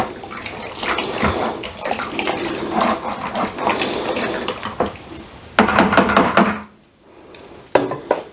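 Three litres of boiling water poured into a vessel of lilac flowers for home-brewed country wine, a steady close splashing gush that breaks off briefly near the end and then resumes.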